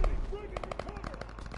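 Machine gun fire in Call of Duty: WWII: a rapid, evenly spaced burst of close automatic shots lasting about a second over a low rumble.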